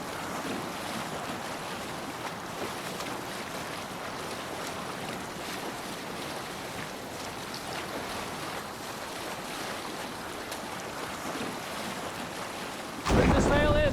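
A sailing ship at sea in Assassin's Creed Valhalla, with steady rushing wind and surf washing against the hull throughout, then a sudden louder crash of water and creaking near the end.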